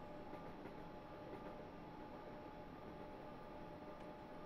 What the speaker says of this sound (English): Here's another train coming along